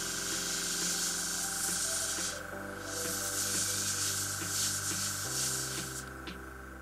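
An airbrush sprays jet black eyeliner along the lash band, giving a steady close hiss over a constant compressor hum, with short pauses and bursts in the spray.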